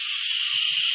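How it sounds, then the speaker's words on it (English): Steam blasts out of an Instant Pot's pressure release valve, a loud, steady, high hiss that holds constant and close for the whole moment, with no voices. "So I'm going to turn the pressure valve and release it, and it's going to be really loud when it does."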